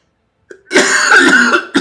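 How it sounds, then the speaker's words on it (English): A single short throat-clearing cough bursts out close by, followed by a rough, raspy exhale and the start of another cough. "Man, I am coughing like a fiend."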